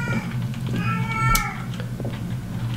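A cat meows in the horror video game Erie, a couple of clear, near meows with harmonic wails over a low steady background hum, no talking.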